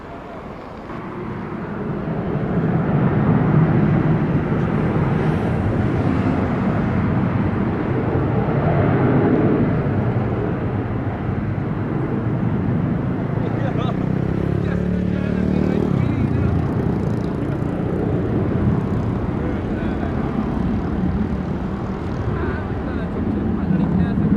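A Delta airliner takes off from runway 7 at Sangster International Airport in Montego Bay, Jamaica, its broad, rumbling jet roar building and holding steady, with air traffic radio talk alongside.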